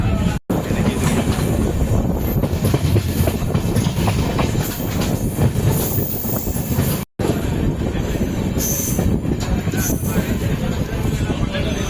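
A MEMU passenger train runs along its rails on a route in Tamil Nadu, rolling with a steady loud rumble and rattle of the carriages, with faint clickety-clack, heard from on board. Two very brief drops in the noise interrupt it.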